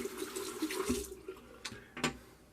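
Tap water runs over a Yaqi slant paintbrush being rinsed at a sink, a steady close splash for about a second that thins out, followed by a couple of short sharp clicks and taps.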